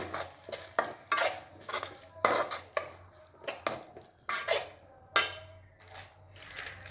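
Cauliflower florets for Gobi Manchurian are tossed with soy sauce in a bowl, producing close, rhythmic clinks and scrapes of a spoon against the dish, about a dozen quick strokes with brief pauses.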